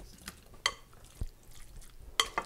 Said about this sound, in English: Go ahead and spoon it in.